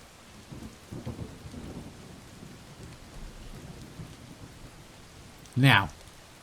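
Storm effect from a fantasy game demo: steady rain patters beneath a low rumble of wind and thunder, then a sudden loud crack near the end.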